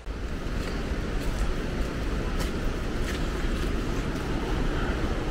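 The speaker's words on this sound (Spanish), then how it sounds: "Encontramos la segunda cascada después de una subida y unas escaleras bastante largas" The waterfall at La Chorrera del Indio in Pance roars as a steady, loud, broadband rush of falling water close by, constant throughout with faint intermittent wind buffeting and no speech.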